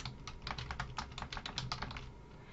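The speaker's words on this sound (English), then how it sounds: "So I can just type in," Rapid, uneven keystrokes on a computer keyboard while entering a search term into a citation manager, a close, dry clatter of a couple dozen taps over a low background hum, with no talking.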